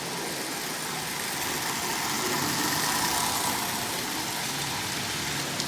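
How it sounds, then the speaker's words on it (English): Old Marx Canadian Pacific toy locomotive, about 80 years old and restored, running with a steady buzzing whir of its small motor, close and continuous without pauses. "This old locomotive is up and running."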